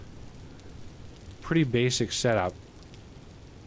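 Rain falls in the Vintage Story survival game, a soft, steady hiss of drops on surfaces running throughout, briefly overlapped by someone talking in the middle.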